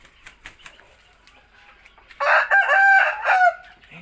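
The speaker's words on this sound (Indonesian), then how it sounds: "ini ayam pelung ini jarang-jarang berkokok ya." A Pelung rooster in a farm coop gives one long, loud, drawn-out melodic crow with wavering pitch, preceded by soft clucks and faint rustling from the coop.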